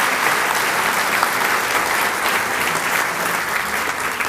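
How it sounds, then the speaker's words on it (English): An audience at an evening speaking event applauds loudly and steadily, a dense wash of clapping that holds throughout without cheers or talk. "let's give them a big round of applause"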